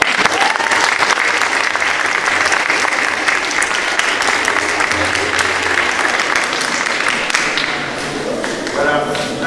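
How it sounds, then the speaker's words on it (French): A large crowd at a closing Mass applauds steadily and loudly throughout, a dense wash of clapping with a voice briefly audible near the end. "Donc, applaudissez-les encore."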